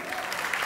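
Audience applause after a performance at a Canon event, a brief, dense wash of clapping heard at moderate distance.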